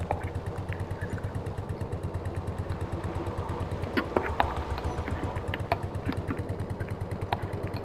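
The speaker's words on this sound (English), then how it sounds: "This is quite a heavy load for this tractor." A vintage Porsche tractor in Farming Simulator 22 pulls a heavy load, its engine throbbing in a steady, fast low pulse close by, with light mechanical clatter and occasional knocks over the continuous drone.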